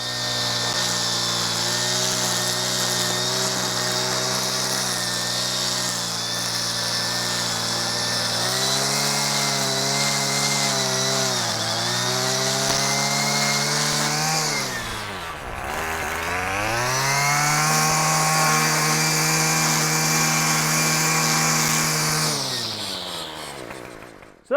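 Power edging tool cutting along a lawn edge, its engine whining at a steady high pitch with dips and revving as it bites into turf, loud and close for the whole stretch before cutting off at the end.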